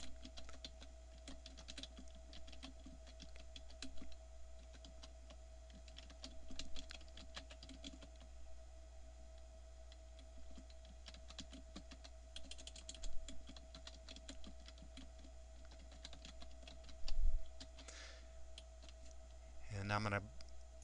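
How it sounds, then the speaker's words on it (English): Someone types a message on a computer keyboard, steady soft key clicks continuing throughout over a constant electrical hum, close but quiet. "So I'll go ahead and type my message."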